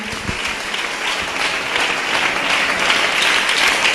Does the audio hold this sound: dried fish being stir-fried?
no